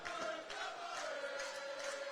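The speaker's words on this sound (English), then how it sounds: "Crowd up and about, making plenty of noise." A packed crowd at a Corporate Fighter boxing night roars steadily after a standing eight count, a dense, continuous wall of cheering and shouting with a sustained tonal whine running through it, loud and unbroken for the whole stretch.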